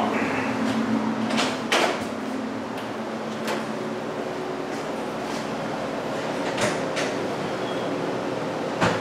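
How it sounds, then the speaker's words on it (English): Interior doors in a house are opened during a worst-case draft test, giving several sharp knocks and latch clicks spaced a few seconds apart over a steady humming air handler. "So I'm going to go back and open up the interior doors real quick"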